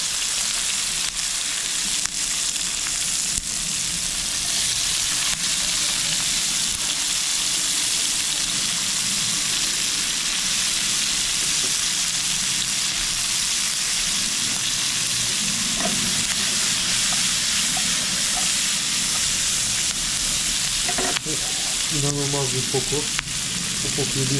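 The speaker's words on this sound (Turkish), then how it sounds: "Buradaki aromaların da yağ geçmesini istiyoruz. Hemen peşine de soğanlarımızı ilave ediyoruz." Onions and dried hot chili fry in hot oil in a steady loud sizzle, with occasional stirring and scraping toward the end and no talking.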